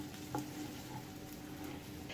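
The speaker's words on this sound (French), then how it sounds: "Je vais faire revenir à feu doux à moyen l'oignon jusqu'à ce qu'il devienne" Chopped onion sautéing in a pan over low-medium heat gives a soft, steady sizzle with light stirring scrapes and a brief utensil clink near the start, with no talking.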